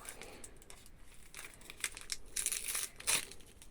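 Paper crinkling and tearing as a Christmas advent calendar box is opened, soft rustles building to a few louder crackling bursts near the end, close and alone with no talk.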